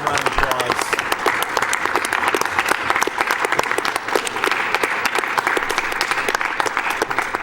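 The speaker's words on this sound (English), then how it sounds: "we've got the one more time round of applause" Steady, dense applause from an audience at the Summer Games Done Quick 2014 speedrun event, many hands clapping continuously at an even level throughout.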